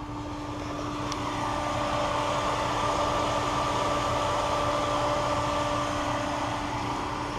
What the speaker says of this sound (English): Hear the blower kick in.